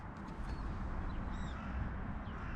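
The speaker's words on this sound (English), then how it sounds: "Look at those beautiful gulls flying in the blue sky." Several gulls call faintly from the sky under a blue-sky outdoor setting, with a few short cries scattered over a steady background wash of wind and ambient noise.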